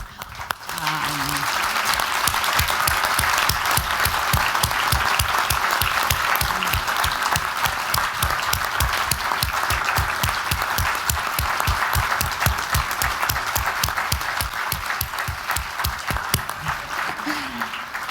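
Audience at a conference panel on women's contributions to security solutions breaks into sustained applause, loud and steady for the full stretch, with a voice briefly speaking at the start and end.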